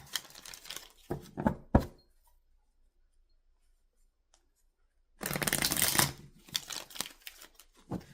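Tarot cards are shuffled in two bursts of crisp riffling and flicking, close and clear, separated by a few seconds of silence.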